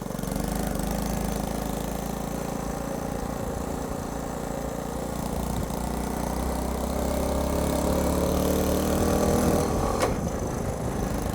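Honda C90 motorcycle engine idling with its revs held high, a steady, continuous near drone that stays loud and even throughout, with a brief clunk near the end.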